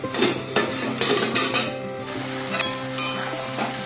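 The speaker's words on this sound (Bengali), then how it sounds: "এবার আমি ঢাকনাটা খুলবো" A metal lid lifts off a pot of simmering chicken and vegetable stew, with a few sharp clinks and scrapes of metal on metal over a soft, steady kitchen background.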